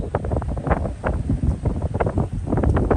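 Gusty wind buffets the microphone on a hilly disc golf course at Bryant Lake Park, producing a low, rumbling roar that swells and fades in uneven bursts.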